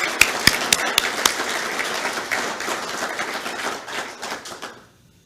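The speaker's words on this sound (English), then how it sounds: "join me in a nice Rotary thank you round of applause for our Legacy members" A Rotary meeting audience breaks into a round of applause, dense clapping with a few sharp claps standing out near the start, carrying steadily for about four seconds before fading out.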